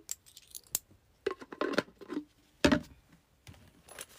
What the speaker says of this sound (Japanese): 小銭多すぎてマジで財布閉まらない事件